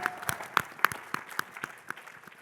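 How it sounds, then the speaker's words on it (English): An audience at a small business finance forum's closing plenary claps for a speaker, a brief round of applause with clearly separate, fairly close claps. "How about another round of applause for Tate?"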